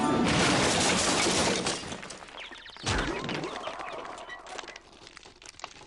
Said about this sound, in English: the dreaded penguins have almost smashed through the castle door.